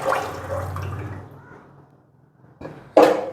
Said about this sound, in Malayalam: ഇനി നമുക്കിതിലേക്ക് നമ്മൾ അളന്ന് വെച്ചിരിക്കുന്ന വെള്ളം ഒഴിച്ചെടുക്കാം